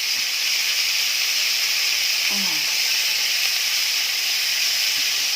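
Field crab frying with garlic, pepper and pork belly, a steady bright sizzle and hiss that holds evenly throughout, close and fairly loud, with a brief low murmur partway through.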